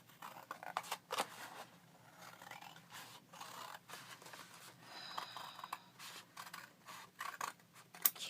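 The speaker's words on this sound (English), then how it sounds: "I'm going to go down the center if I can cut these antique scissors" Antique scissors cutting through chipboard letters: a scattered series of quiet, close snips and scraping crunches with short pauses between cuts.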